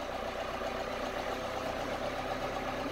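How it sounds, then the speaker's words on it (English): A new tractor's engine idles in low gear, a steady, close, continuous rumble with an even low throb and no talking. "new tractor. Got it in low gear."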